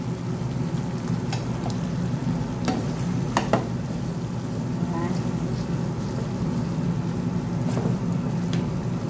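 Smoked chicken sizzles as it fries in a pan on low heat, with soft stirring scrapes and occasional clinks. The sound stays steady and moderate throughout.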